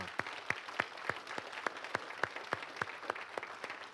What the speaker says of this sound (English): give the Lord a hand clap of praise where you are.